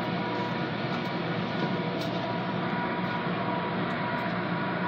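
Westbound Amtrak California Zephyr passenger train departing Denver, Colorado: a steady, dense rolling rumble and rail noise that holds at an even level throughout, with no voices.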